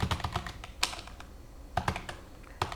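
Typing on a computer keyboard while writing a Qt style sheet: quick irregular clusters of close, crisp key clicks with short pauses between bursts, no talking.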